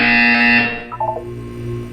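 A loud electronic buzzer sounds once, a steady harsh tone for under a second that cuts off into a few short chirping blips and a low hum.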